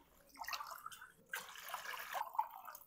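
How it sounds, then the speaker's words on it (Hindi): Water is poured into a pan of chicken masala as it cooks, making two gurgling, splashing pours separated by a short pause, fairly faint and close. "अब हमने इसमें पानी शामिल कर देना है"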